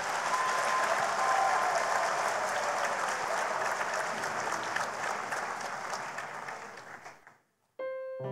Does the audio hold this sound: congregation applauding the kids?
yes